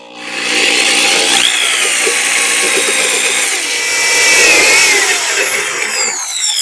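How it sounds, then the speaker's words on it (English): A variable-speed drill turns a hole saw through a box and a metal clamp for a dorade box, biting in with a steady grinding whine that climbs and wavers in pitch, loud and continuous for several seconds before stopping. "You want a drill that will give you a variable speed. You don't want hole saws running too fast."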